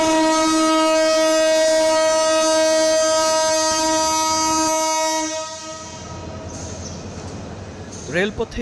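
A loud train horn blares for about five seconds, then fades into the rolling rumble of a train arriving at a crowded platform at Kamalapur Railway Station during the Eid rush, with faint voices near the end.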